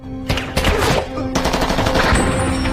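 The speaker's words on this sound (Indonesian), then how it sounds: "Saat melihat Blanco, Alec langsung menembakinya" Rapid bursts of gunfire in a Russian mafia action film crack loudly in quick succession, dense and rattling like automatic weapons.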